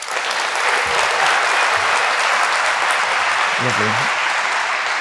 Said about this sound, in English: Please give a big round of applause to,